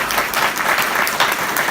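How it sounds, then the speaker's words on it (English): Sustained audience applause at a university event, a dense, steady wash of many hands clapping throughout with no pauses. "If we can give her a round of applause."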